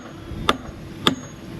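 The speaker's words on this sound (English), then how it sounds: "hammering this hex key in" Two sharp metallic hammer strikes drive a hex key into a drilled-out nut on a boat's rudder fitting, spaced about half a second apart, close and crisp over a quiet background.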